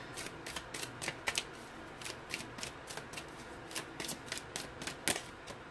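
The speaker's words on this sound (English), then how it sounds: "I think I'm just going to pull a few cards." Tarot cards are shuffled and drawn by hand, making a quick series of crisp riffling bursts and card snaps in an irregular rhythm, close and fairly quiet, with no talking.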